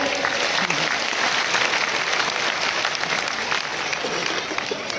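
Vigorous audience applause at a Jaya Kishori Bhagwat katha gathering in Bilaspur, a steady dense wash of clapping from a large crowd, loud and unbroken throughout.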